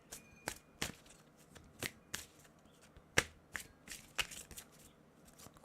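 An oracle card deck is shuffled in a quick series of crisp snaps and riffles, close by and fairly quiet, with irregular spacing between bursts.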